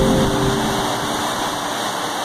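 Rushing waterfall on the Racebrook Falls trail, swollen after heavy rain, a steady, loud, broadband roar of falling water close by with no voices.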